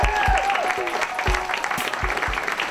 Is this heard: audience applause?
yes